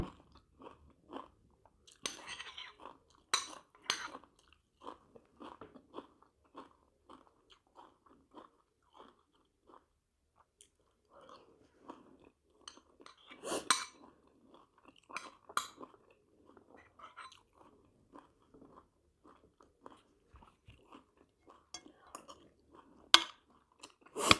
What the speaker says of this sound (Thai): กัดเจอกระเทียมเจอหอม